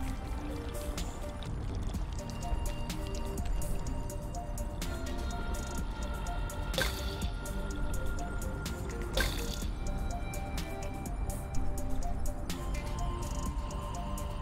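Splashy wet footsteps and drips as a character strolls across water in the video game Haven, a steady close stream of liquid squishes with occasional sharper splashes, no voices.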